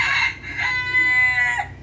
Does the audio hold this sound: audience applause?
no